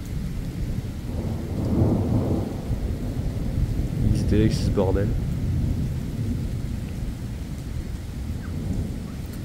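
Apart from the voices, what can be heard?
thunderstorm thunder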